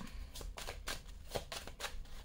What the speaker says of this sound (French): Allez, on va regarder avec l'oracle des miroirs. On va faire le tirage en 13 cartes.